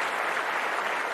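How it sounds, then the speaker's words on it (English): A brief, steady patch of applause from an interview audience welcoming Dr. Daniel Laby, a sports vision eye doctor, heard alone at moderate level. "Let me give him some applause here, man."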